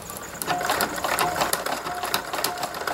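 A sewing machine runs on its widest, longest zigzag stitch while making a lace tablecloth wall hanging, a fast, steady mechanical clatter with regular needle ticks, close and continuous, no talk.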